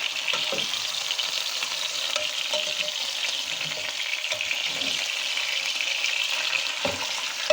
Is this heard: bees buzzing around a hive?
no